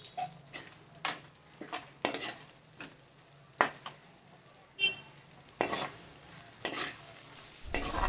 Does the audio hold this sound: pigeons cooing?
no